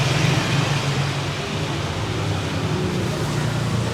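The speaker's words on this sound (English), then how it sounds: "we've got the traffic going back and forth" Street traffic passing back and forth on a humid day, a steady low rumble of vehicles close by with a continuous wash of road noise and no clear breaks.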